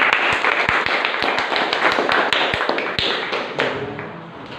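Applause in a classroom for a student representing group one: a few pairs of hands clap close by in a sparse, uneven burst of distinct slaps that thins toward the end. No voices are heard.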